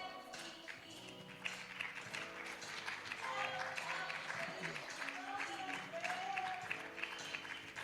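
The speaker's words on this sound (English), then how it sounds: "Give them a round of applause." An audience at an evening panel discussion on political issues in Midland, Michigan applauds the panel members, a steady wash of clapping that swells midway and continues throughout, with some voices mixed underneath.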